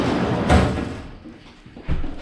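A bathroom door in a holiday room on Kos Island is pushed shut, giving a close, thudding slam near the start and a second softer knock toward the end, over room hiss.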